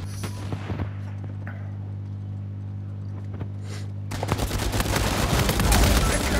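Gunfire in a multiplayer match of the action game Uncharted 4: A Thief's End, with a few isolated shots over a steady hum before a dense, loud burst of rapid firing at the end.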